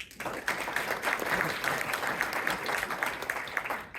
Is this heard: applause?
yes